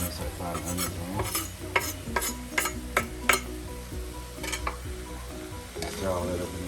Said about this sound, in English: Start frying onions on it.